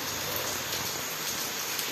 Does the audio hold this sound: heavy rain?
yes